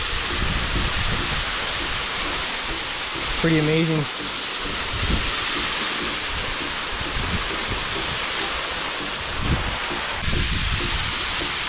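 Roaring waterfall heard from very close up, a steady broadband wash of falling water running throughout, with a person speaking briefly over it.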